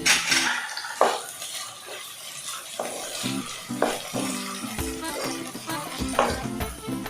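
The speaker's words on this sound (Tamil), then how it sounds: "வெங்காயத்தை நல்லா செவக்க வணக்கிக்கலாம்" Onions sauté with salt in a pan under a soft sizzle, with intermittent clanks of a spoon or ladle against the pan and a few scraping stirs, close by.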